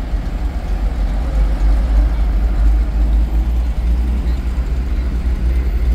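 An antique Valhalla Fire Department vehicle, Car 2482, idles in a parade with a heavy, steady low engine rumble that holds close and constant.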